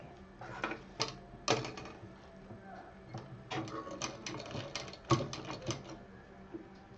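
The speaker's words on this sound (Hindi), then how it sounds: "सिल देंगे" A sewing machine stitches a fabric cover in bursts of rapid mechanical clatter, close and fairly quiet, with short pauses between runs over a low room hum.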